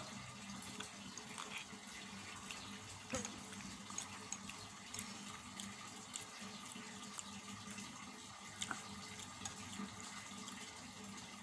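Tap water runs steadily into a basin in a home kitchen, a constant broadband splashing rush that holds through the whole stretch with faint clinks and a low background hum.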